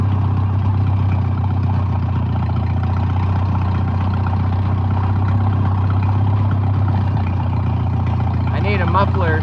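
A Farmall M tractor engine running with no muffler, a steady loud low rumble close by throughout, with a voice talking over it.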